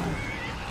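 A horse in the Skyrim video game gives a brief whinny over dense, noisy game sound, the call short and partly buried in the surrounding mix.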